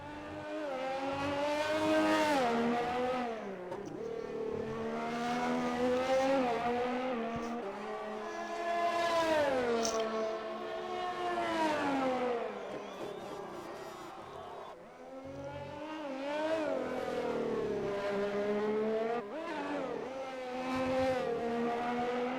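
GP3 race car at Abu Dhabi heard onboard through a lap, its engine whining high and rising through gears, dipping and climbing again as it brakes and accelerates, loud and close throughout.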